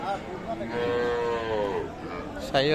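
A cow at a busy rural cattle market in Aftabganj, Dinajpur, gives one long, drawn-out moo close by, with a sharper second call beginning at the end over low crowd murmur.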